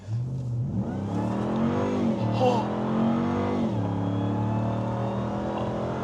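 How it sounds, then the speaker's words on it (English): The supercharged engine of a 2025 RAM TRX Final Edition pickup revs hard, its note climbing and dropping in a few surging sweeps over a steady rumble, loud and close. "let's just shut up and let's listen to that supercharger"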